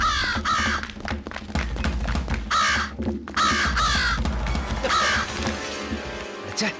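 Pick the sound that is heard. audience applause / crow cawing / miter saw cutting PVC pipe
crow cawing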